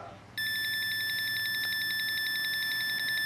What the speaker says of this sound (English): when you hear the long beep, I mean it's already to the real top portion of the trimming cycles